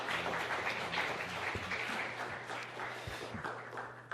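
A church congregation applauds during a prayer gathering, a steady wash of clapping from many hands that carries on throughout.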